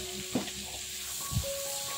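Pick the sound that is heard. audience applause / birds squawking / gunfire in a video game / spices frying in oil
spices frying in oil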